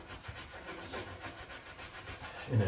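A stiff brush scrubs shower grout back and forth in a steady rhythm, close up, a rasping scratch repeated several times.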